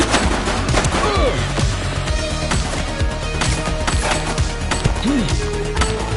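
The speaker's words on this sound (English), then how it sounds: "She's shooting!" Dense gunfire in The Precinct, a police game on PS5, as officers engage a suspect: rapid overlapping shots and bursts, loud and close, continuing steadily throughout.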